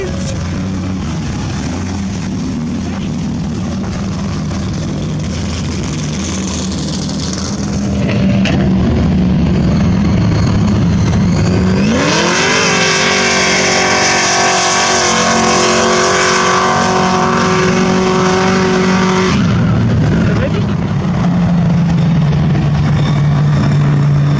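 A loud supercharged car engine fitted with an 8-71 blower at a Powercruise event, first idling, then revving up to a sustained high-pitched scream held for several seconds before dropping back to a rumbling idle.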